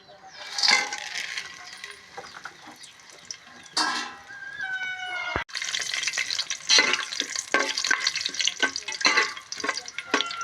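Ingredients drop into hot oil and dalda for a head-meat dum biryani, setting off a crackling, sputtering sizzle with scattered pops and clinks, broken by a sharp bang midway before the frying resumes briskly.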